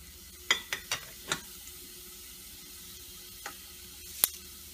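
Cumin, bay leaf, cloves and a cinnamon stick hit hot oil, giving a quiet steady sizzle broken by a few sharp crackles and pops.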